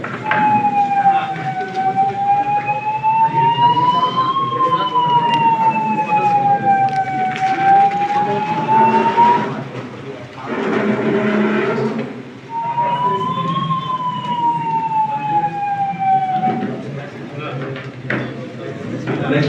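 A wailing police vehicle siren rises and falls in long sweeps, loud and close, with a break in the middle before it resumes, over traffic noise.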